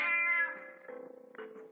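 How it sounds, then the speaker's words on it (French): A cat being petted by a boy on a farm gives a drawn-out, falling meow, then two shorter, softer meows, close and clear with no talking. "le garçon qui est à gauche caresse un chat."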